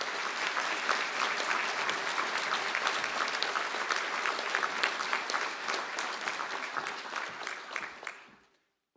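Business graduates at a Galway City conferring ceremony receive a round of applause from the audience, a sustained dense clapping from a large crowd that holds steady for several seconds before quickly dying away.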